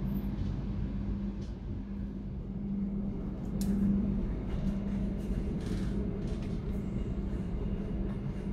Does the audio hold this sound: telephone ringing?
no